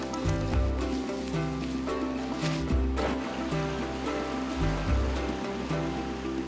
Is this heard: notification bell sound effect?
no